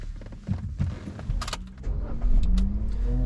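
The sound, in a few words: 2011-2014 Kia Rio engine starting with new key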